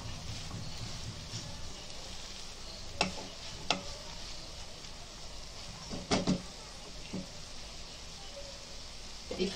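Cumin and crushed coriander frying in a pan for Konkani-style whole-spice keema, a quiet, steady sizzle broken by a few sharp clicks and taps of a utensil against the pan.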